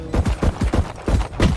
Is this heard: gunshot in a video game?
yes